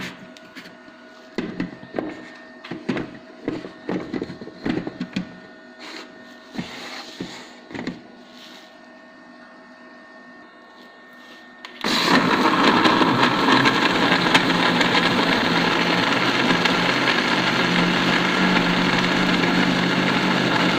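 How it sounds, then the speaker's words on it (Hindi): Scattered knocks and taps as ingredients are added, then a blender starts abruptly and runs loud and steady, grinding a strawberry shake with sugar in a continuous roar. "और फिर हम इसको ब्लेंड कर देंगे।"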